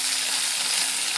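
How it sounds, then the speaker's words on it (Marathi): Curry leaves sizzle in hot oil with onion and peanuts for a traditional Amravati-style tempering. A brief, close, even hiss of frying continues without a break. "ओके, आता टाकलं मी कढीपत्ता."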